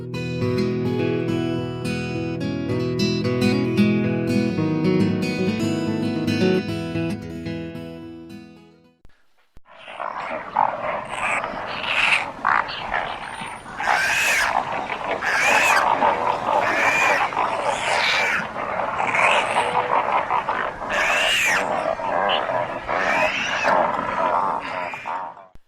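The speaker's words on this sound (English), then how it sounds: "The sound you just heard was that of the brown pelican." Brown pelican calling in Florida: after a stretch of music, a close series of low, harsh, grunting and croaking calls repeats irregularly over about fifteen seconds, rough and growly with no talk.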